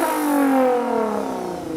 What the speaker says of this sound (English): I do like that V6 sound